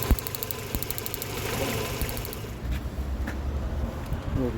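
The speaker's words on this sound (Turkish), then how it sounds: "Tak tak tak tak bir sese geliyor motor." An idling Renault Megane 1 engine with low compression runs steadily with a faint repetitive ticking knock riding over the low mechanical hum.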